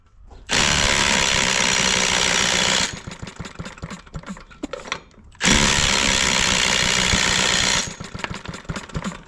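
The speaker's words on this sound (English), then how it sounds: "let me go get a drill and we'll try to spin it with the drill" A power drill whines loudly in two long bursts, spinning an old, long-unused engine that chugs and knocks unevenly between and after them.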